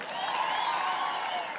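A crowd at a political rally at Munyaka Secondary School in Nyahururu breaks into a dense wash of applause and clapping, steady and full for over a second, with no voice over it.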